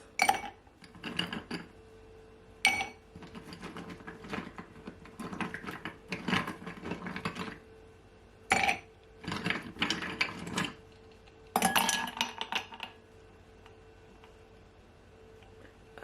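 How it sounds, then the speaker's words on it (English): Ice cubes drop into a drinking glass while a Jamaican pumpkin punch is prepared, making irregular bursts of clinking and rattling clatter separated by quiet pauses. "I love a lot of ice in my drink."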